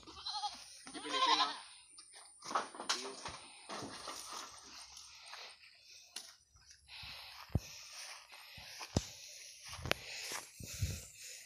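Farm goats bleat in repeated, fairly close calls with short gaps between them, mixed with faint rustling and a few clicks.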